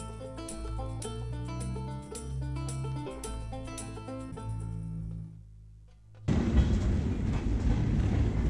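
Rhythmic clickety-clack of Northern Central Railway train wheels over rail joints, with a steady rumble, then the sound shifts abruptly into a louder, rougher roar of the moving train.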